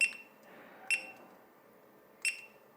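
Three sharp, high electronic beeps from a Retekess TD108 calling system alarm sound alone against near silence, spaced unevenly about a second apart.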